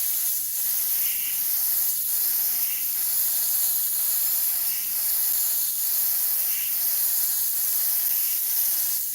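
Airbrush sprays paint onto synthetic paper in a steady, soft airy hiss with faint rhythmic pulses as the trigger is worked, close and continuous with no talking.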